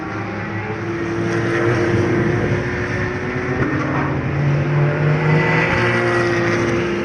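Race cars lap the Nogaro circuit, giving a loud, continuous engine drone with shifting pitch as the cars pass.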